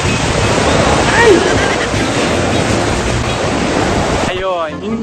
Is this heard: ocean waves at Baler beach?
yes